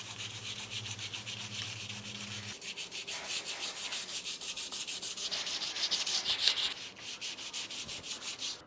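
Sandpaper wrapped around a wooden paint stick rubs back and forth over a wheel, making a steady, close, rhythmic scratching that speeds up toward the end.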